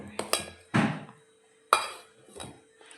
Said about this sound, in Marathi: यात आपल्याला घालायचं आहे थोडंसं मीठ व हे मिक्स करून घ्यायचं आहे